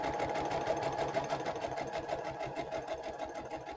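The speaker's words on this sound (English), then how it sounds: "Sometimes the sewing machine won't pull the paper through" A sewing machine stitches through paper for a farmhouse-style junk journal, a fast, even mechanical chatter of the needle running continuously at close range with no talking.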